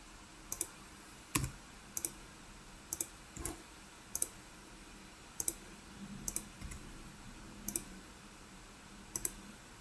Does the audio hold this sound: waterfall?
no